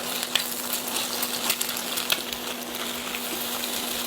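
Eggs frying in oil in a pan for keema kebab, a steady close sizzle with small crackling pops throughout, heard alone without talk.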